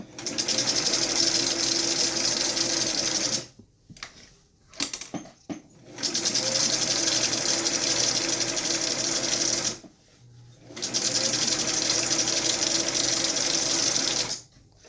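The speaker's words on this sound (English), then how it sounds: "just leave that top edge open, or most of the way open, and then sew around the bottom edges" A sewing machine stitching a fitted fabric face mask runs in long, steady whirring stretches, loud and close, stopping for a few short pauses between seams, with no talking.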